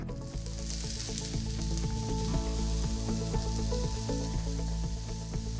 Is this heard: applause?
no